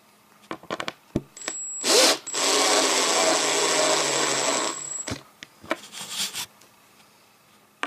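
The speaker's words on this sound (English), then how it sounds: "It says not to use power tools, but who wants to put all them screws in by hand?" A power drill driving screws whirs continuously for about three seconds while assembling a flat-pack computer desk, preceded and followed by scattered clicks and knocks of handling.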